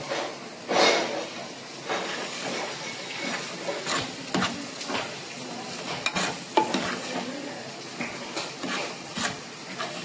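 Misal gravy with ground chickpeas is sautéed in a pan, giving a soft, continuous sizzle broken by repeated spoon scrapes and stirring knocks, close but fairly quiet, with faint talk at times.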